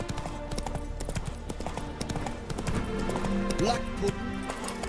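A horse gallops in The Witcher 3 with a steady rhythmic clip-clop of hooves. Someone talks over it, and other game sounds play underneath.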